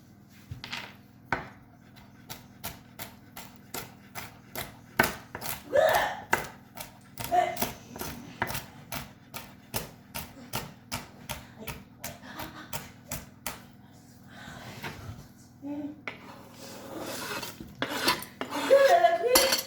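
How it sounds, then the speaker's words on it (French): A knife coarsely chops toasted almonds on a board, with a steady run of crisp, close taps and clacks that speed up and grow louder toward the end. "On va rajouter des amandes qu'on a fait torréfier, qu'on va concasser grossièrement au couteau"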